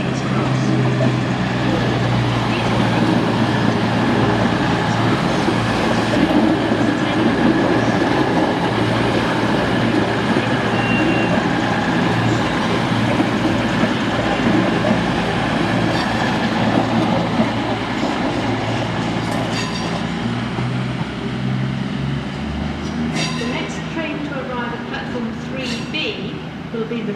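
A train rumbles loudly through Doncaster station, a steady heavy roar with wheel clatter that eases slightly and adds metallic squeals and clicks toward the end; station announcements play over it.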